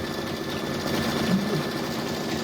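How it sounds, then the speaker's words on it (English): A Brother embroidery machine runs a decorative stitch over a satin stitch on a Christmas hanging sign, giving a steady, close mechanical whirr with fast needle clatter and no pauses. "it's done the satin stitch and it's doing that decorative stitch on top of it"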